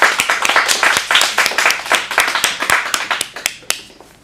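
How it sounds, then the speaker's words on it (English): Audience applause at an adult acting showcase in Phoenix, dense close clapping that thins out over about four seconds into a few last scattered claps. "Let's get a big round of applause."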